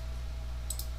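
Two quick mouse clicks, close and crisp, in software used to program an IGEMS APEX 60 3D 5-axis machine, over a steady low electrical hum.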